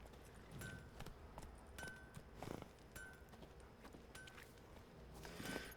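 Horse hooves clip-clopping at a steady walking pace in The Witcher 3, quiet and continuous with repeated soft thuds over game ambience, with no speech.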